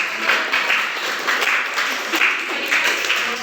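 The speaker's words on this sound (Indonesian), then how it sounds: "Tepuk tangan dulu untuk Ayu." A classroom of students claps for a classmate after her algebra presentation during a micro-teaching session, a light, steady patter with no voices.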